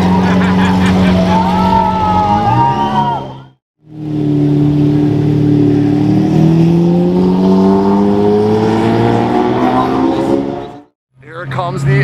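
A Grigio Celeste Lamborghini Murcielago V12 revs loudly nearby, its pitch sweeping up and down in strong surges with brief cut-offs between bursts, while people talk and exclaim over it.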